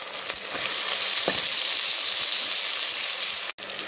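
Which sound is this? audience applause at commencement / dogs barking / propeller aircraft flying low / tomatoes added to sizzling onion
tomatoes added to sizzling onion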